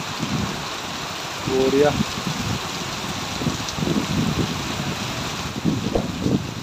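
Heavy rain falls in Udalguri town, a steady dense hiss that runs throughout while people talk over it.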